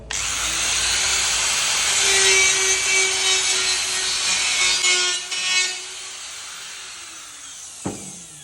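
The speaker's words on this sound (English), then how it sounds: "clean out the edges a little bit with using a die grinder or a Dremel." A die grinder whines loud and close as it cleans up the edges on an aluminum boat, holding a steady high-pitched hiss and grind before it tapers off and stops, followed by a short clunk.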